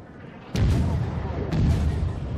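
Enemy gunfire in a video game, with two sharp bursts of shots about a second apart followed by a lingering rumble, loud against a steady background and some talk.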